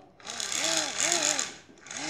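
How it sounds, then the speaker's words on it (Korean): A small battery-powered toy electric fan whirs with a rising and falling motor whine that swells and dips in pulses, close and fairly loud, with no speech over it. "마법의 선풍기."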